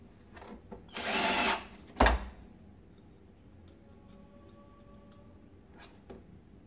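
A power screwdriver whirs loudly for about half a second, driving a screw into a Philips Marathon Ultimate FC 9924 vacuum cleaner motor. A sharp knock follows, then quiet handling noises.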